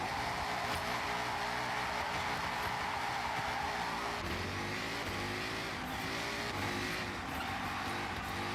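A car engine drones steadily while driving, then the revs climb in rising sweeps through the second half, loud and continuous with no talk.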